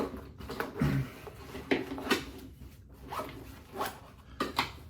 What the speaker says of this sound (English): just kind of throw that in there, zip that up